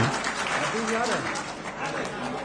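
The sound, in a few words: crowd applauding at a political rally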